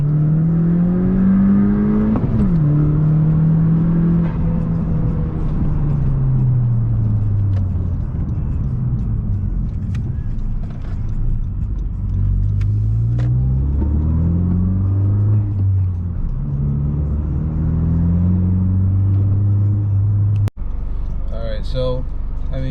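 A tuned Honda with a Powermetric stage 1 tune accelerates hard in a pull with traction control on, its engine droning and climbing in pitch, dropping back, then rising again, loud and close from inside the car while a person talks over it.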